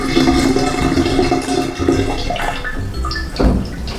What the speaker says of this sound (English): And now we are gonna pour the tea.